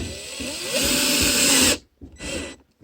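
A power drill drives a screw through flex duct onto one of its wire coils where the duct attaches to a galvanized boot or round pipe. A steady, close whine lasts almost two seconds, then stops, followed by a short second burst.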